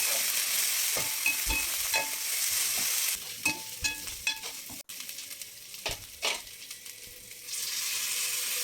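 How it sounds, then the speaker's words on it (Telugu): Ginger garlic paste frying in a pan for veg pulao: a steady, close sizzle broken by scraping stirs and a few utensil clicks, then the hiss swells again near the end. "అల్లం వెల్లుల్లిపాయ పేస్టు ఓ టీ స్పూను వేసుకుని వేపుకున్నామండి"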